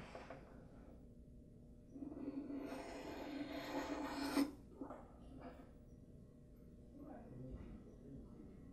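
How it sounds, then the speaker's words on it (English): A knife blade is drawn lightly back and forth across a sharpening stone to strip away a fine burr. Quiet rasping strokes come in a short cluster, close but faint, then a few softer scrapes follow. "really gently drag it across the stone both ways"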